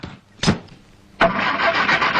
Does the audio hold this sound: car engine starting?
yes